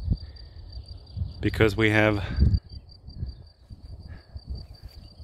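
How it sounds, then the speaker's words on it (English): Grasshoppers and locusts chirp in open fields beside a forest on a hiking trail, a steady high insect drone running throughout while someone speaks briefly over it near the middle. "the nice sound of the grasshoppers and locusts and whatever makes this noise"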